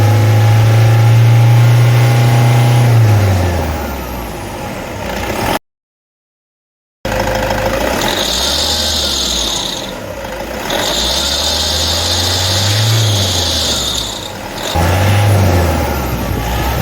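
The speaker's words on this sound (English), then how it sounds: "I'm going to rev this engine." A Toyota D4D diesel engine revs repeatedly, rising and falling in loud close surges between idle, with a brief dropout midway and a sustained high whine during the later revs.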